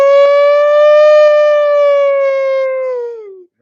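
A loud, steady siren wail holds one pitch, then sags downward and fades out near the end, sounding alone without talk, like a person imitating a civil-defense victory siren.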